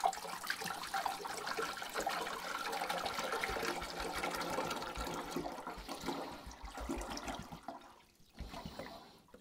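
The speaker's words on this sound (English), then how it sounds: "I'll pour in 4 liters of distilled water." Four liters of distilled water pour and gush continuously into an ultrasonic record cleaner tank, a rushing, hollow liquid sound that tapers off near the end.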